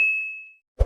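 A single bright notification bell ding rings clearly and decays smoothly over about half a second, followed by a short low thump after a brief silence.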